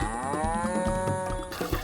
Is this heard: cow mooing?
yes